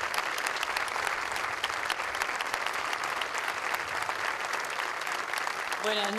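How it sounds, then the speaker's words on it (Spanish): An audience at a tribute concert applauds steadily for several seconds, a dense and even wash of clapping that sounds fairly distant and soft. A voice begins to speak right at the end. "aplauso del público."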